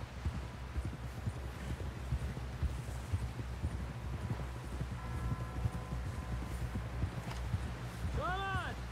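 Horse hooves clip-clop steadily through Red Dead Redemption 2 gameplay, a continuous rhythmic trot over a low droning score, with voices speaking over the hoofbeats.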